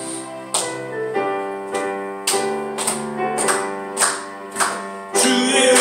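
A church congregation claps in steady rhythm along with a Korean hymn, sharp regular claps landing roughly twice a second over sustained sung and instrumental music.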